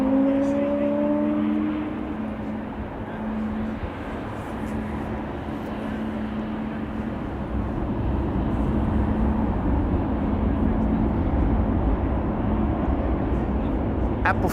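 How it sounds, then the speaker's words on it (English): A KLM Embraer E195-E2 jet departing Amsterdam Schiphol Airport, a steady roaring engine rumble with a rising whine early on, heard under a voice speaking throughout. "KLM flight 1983 to Belgrade. This is an E2 Embraer 195."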